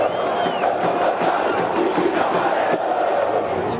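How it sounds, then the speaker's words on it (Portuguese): Angry São Paulo football fans protesting in a stadium, a dense roaring crowd with shouted chants and jeers blending into a continuous loud wall of voices. "A torcida, revoltada, protestou"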